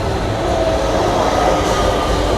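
A Class 810 passenger train on the St Pancras to Sheffield route passes through Chesterfield station with a loud, steady rolling roar and a faint wheel squeal throughout.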